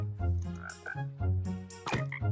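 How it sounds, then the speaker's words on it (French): A frog croaks in a video game, giving a series of loud, nearby croaks in an uneven rhythm, with no talking over it. "Ferme-la, la grenouille."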